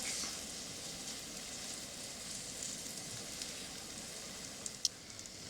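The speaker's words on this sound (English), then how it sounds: "when you have your pancakes on your pan, you're gonna let them cook for 3 to 5 minutes" Pancakes cook in a pan with a soft, steady sizzle, faint and even throughout, ending with a few small ticks near the close.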